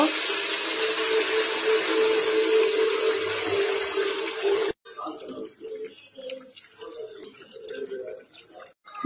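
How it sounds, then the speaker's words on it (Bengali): Warm water poured into a Bengali rui fish curry with bottle gourd, a steady, loud rush of liquid for about five seconds that stops abruptly, followed by quieter kitchen clatter and handling sounds. "স্বাদ মতো নুন, উষ্ণ জল দিয়ে দেব।"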